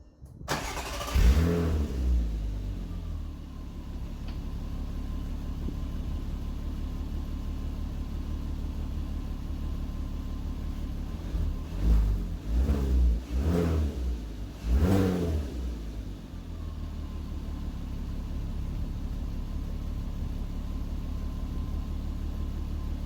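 A VW Mk4 R32 engine cold-starts, cranking and catching, then settles into a steady deep idle through a Milltek exhaust, with a few throaty revs midway before returning to idle; a slight exhaust air leak underneath.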